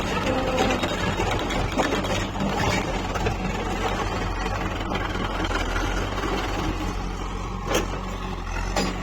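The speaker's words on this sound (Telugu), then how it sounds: "జేసీబీ సౌండ్ అయితే పక్కన దారుణంగా వస్తుంది" A JCB excavator and tractors run while loading on a farm, a loud continuous engine roar with heavy low rumble and no pauses.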